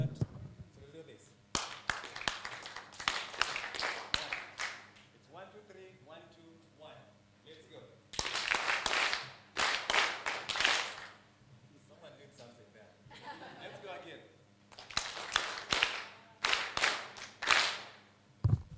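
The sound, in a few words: audience clapping at awards ceremony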